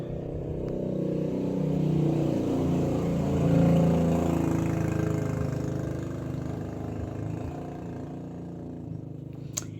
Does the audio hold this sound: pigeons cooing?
no